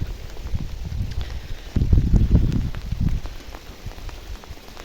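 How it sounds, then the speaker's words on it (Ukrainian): Heavy morning rain pours steadily over a garden of chrysanthemums, a dense close rushing hiss that swells louder for a second or so midway before settling back, with no voices. "У нас такий дощ шурує."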